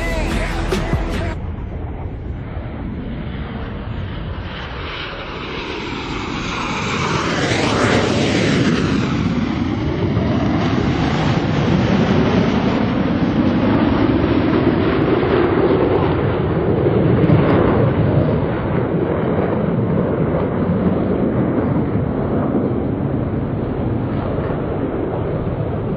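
The Blue Angels Diamond formation of four jets flies past at the Sun and Fun air show, a loud roar that builds and sweeps by with a falling pitch and then rumbles on in a long wash, heavy with wind noise.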